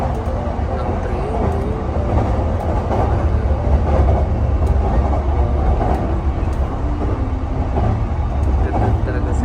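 Train ride in Japan, with continuous rolling rumble and rail noise filling the whole stretch at steady loudness while a person talks over it.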